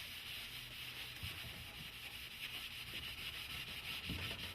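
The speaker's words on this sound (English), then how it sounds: "you can go to your local hardware store and buy one of these Scotch-Brite pads, and what you're going to do is we're going to use this to buff the wax." Scotch-Brite pad buffing wax on a snowboard base under heavy hand pressure, a continuous quiet rubbing hiss with soft rhythmic strokes, heard close up and without talk.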